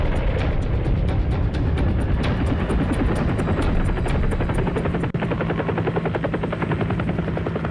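Loud, steady rotor thumping of about 120 American military helicopters taking off in the Vietnam War fills the whole stretch, a dense rhythmic chop with engine whine, close and continuous.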